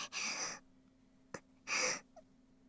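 Two breathy gasps from a woman in the Sabbat of the Witch visual novel, a short panting breath, a click, then a second breath, close and quiet.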